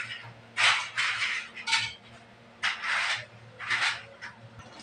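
A spoon scrapes and stirs chunks of bottle gourd being cooked down in a pot for a hilsa fish curry, making five or six short close rasping strokes with brief pauses between them over a faint background hum.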